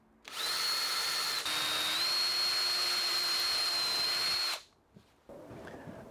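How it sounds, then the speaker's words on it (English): A power drill with a 4mm bit bores all the way through wood for a toilet roll holder, a loud, steady high-pitched whine held for about four seconds up close, then cutting off, followed by faint handling noise. "I need to drill all the way through with a 4mm bit"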